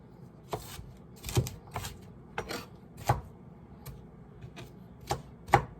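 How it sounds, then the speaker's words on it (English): A knife slicing ginger into little slices on a cutting board, a string of crisp, irregularly spaced chops, close and fairly quiet, with brief pauses between cuts. "you could try and cut it in little slices"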